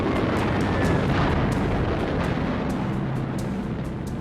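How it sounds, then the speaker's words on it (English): Bombs exploding on Tokyo as low-flying US bombers pass over, a loud continuous rumbling roar with dense, sustained low booming and faint recurring crackles, heavy and close. "US bombers flying low over Tokyo dropped bombs on the city close to the Emperor's"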